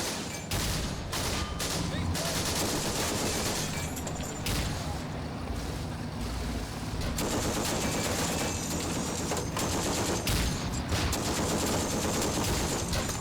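A heavy M2 Browning .50 caliber machine gun fires repeatedly in the Combat Mission war game, long rattling bursts of automatic fire mixed with booming explosions, and someone talks over the battle.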